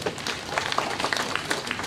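Applause from an audience at a SACCO annual general meeting after a budget presentation, steady clapping throughout, dense and moderately loud with no voices over it.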